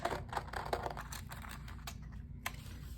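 Paper scissors cut out a fabric gift tag up close, giving a run of quick crisp snips and clicks with a low background hum throughout.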